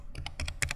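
Quick, light keystrokes on a computer keyboard while a web address is typed, about half a dozen close clicks in a short burst with no speech.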